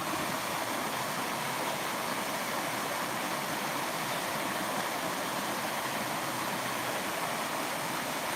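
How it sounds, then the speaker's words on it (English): Little waterfalls and a flowing stream give off a steady, unbroken rush of water, a broad even hiss that carries on throughout with no voices. "All these little waterfalls are amazing"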